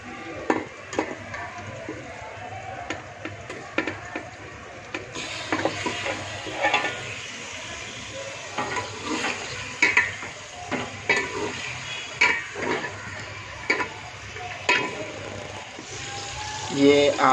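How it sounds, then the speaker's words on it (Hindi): Meat frying in ghee over a low flame and being stirred, soft sizzling with repeated scraping and clinking of a utensil against the pot, close and uneven. "क्यों वो घी में फ्राई हो जाता है और जल्दी बन जाता है"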